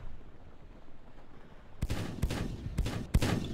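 Video game gunfire starts after a quiet stretch: four or five sharp, loud bursts of shots in quick succession with a faint background hum between them.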